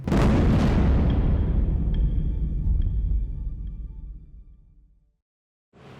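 A big explosion blows up the Maharatu factory: a massive boom hits at once, and a long rumbling roar decays over about five seconds into silence, with a faint metallic ring lingering in the tail.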